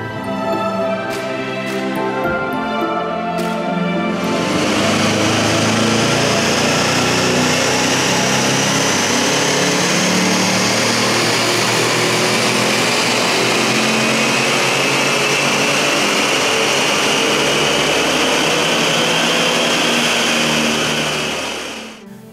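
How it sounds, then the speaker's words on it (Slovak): An Audi RS7 with a sports exhaust revs hard and holds a loud, raspy roar, after a few brief blips at the start. "Tak toto je podstatne ostrejší zvuk, ale je pravda, že tu máme aj športový výfuk v porovnaní s RS6"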